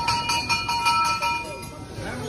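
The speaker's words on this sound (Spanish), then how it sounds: "La campana es señal de abundancia, buena suerte." A temple bell in Kathmandu, Nepal rings in a quick series of bright metallic strikes with lingering tones, heard amid people talking and crowd bustle nearby.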